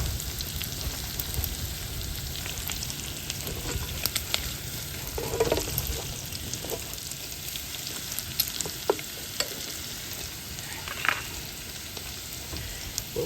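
Italian sausage and gnocchi fry in brown butter with sage and rosemary, a dense continuous sizzle and crackle with occasional pops and stirring scrapes, steady and close, no voices.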